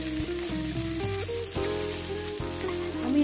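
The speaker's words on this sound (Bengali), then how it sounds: "চাউমিনটাকে এবারে একটু আলতো করে ভেজে নেব" Boiled chow mein noodles frying gently in hot oil in a pan, a continuous sizzle with scattered crackles and some clinks of stirring underneath.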